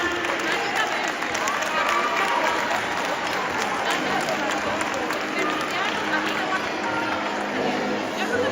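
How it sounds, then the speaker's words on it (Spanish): At an outdoor carnival costume contest awards ceremony, an audience breaks into sustained, dense clapping that holds steady for several seconds, mixed with crowd chatter and a voice over the loudspeaker. "Por ahí ven un fuerte aplauso para esa bailarina"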